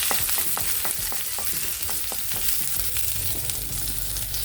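Onions sauté in a hot pan with a dense, steady sizzle and quick scraping stirs ticking through it, close and continuous, with no talk.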